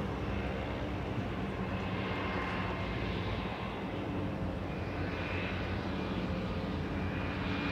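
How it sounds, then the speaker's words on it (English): An airplane comes in to land over Vancouver near the port, a steady, broad engine roar heard at moderate distance throughout. "And we got a plane coming in."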